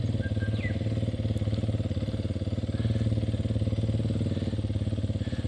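Motorbike engine pulsing with a rapid, even thumping beat as it rides laps through mud in the bush, fairly close and steady throughout, without speech.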